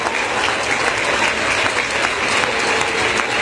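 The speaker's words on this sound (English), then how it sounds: "Can you give a round of applause to your Lord?" Steady audience applause at a youth seminar lecture, a dense continuous wash of many hands clapping together, loud and sustained throughout without any voice.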